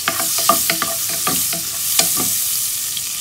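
Onion sautés in melted butter for chicken soup, giving a close, steady sizzle with a series of scraping stirs and clicks from the spoon in the pan.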